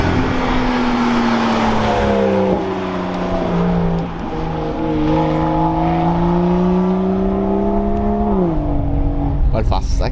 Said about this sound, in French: On les entend de loin en plus les voitures arriver.